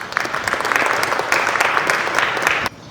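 Attendees at a yoga summit in Canada give a round of applause during a certificate presentation. Brisk, steady clapping from a nearby crowd lasts about three seconds and stops abruptly.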